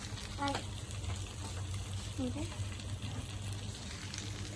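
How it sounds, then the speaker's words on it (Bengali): Luchi deep-frying in oil in a wok on a home stove, a steady moderate sizzle running throughout under occasional voices and clinks. "লুচি ভেজে নিচ্ছে এই সাইডে কেননা দুই কড়াইতে দুই সাইডে বসিয়ে দিয়েছি"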